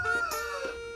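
Pet chickens on a farm, a rooster crowing with hens clucking, close and fairly loud, with no talking.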